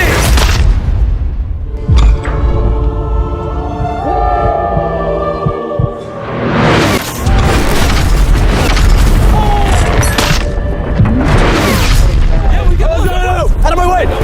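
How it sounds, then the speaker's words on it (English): A Lamborghini dropped from a height crashes with loud booming impacts and crunching, scraping metal, followed by lingering rumble and clatter, with people shouting and talking over the chaos. "3, 2, 1, drop the Lamborghini!"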